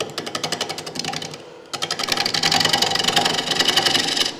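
A half-inch bowl gouge rough-turns a live edge wooden bowl on a lathe, giving a loud rapid rhythmic chatter as the uneven rim strikes the tool, broken by a short pause before cutting resumes.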